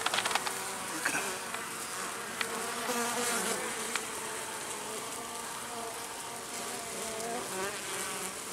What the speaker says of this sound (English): Good sign there's a lot of bees in that hive.